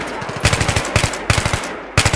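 Bursts of automatic gunfire from the video game Battlefield 3, loud and close, arriving in four short volleys of rapid shots separated by brief pauses.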